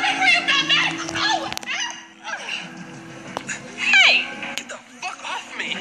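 A dog yips, whimpers and gives short barks in bursts, close and fairly loud, with a person talking over it.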